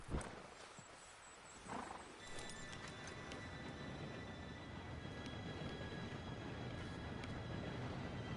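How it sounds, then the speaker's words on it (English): A train arriving in the Red Dead Redemption 2 video game: a steady, swelling rumble that thickens over several seconds, with faint high metallic tones ringing above it and no voices. "Train should be here any minute now."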